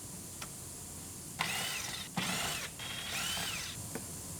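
A power screwdriver backs out the three screws hidden beneath the sun visor cover inside a GMC truck: three close, whirring ratchety bursts with small clicks between them, and no one speaking.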